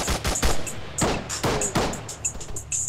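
Gunfire in a multiplayer military video game, with rapid sharp shots and short bursts cracking close by in an uneven rhythm, loud throughout.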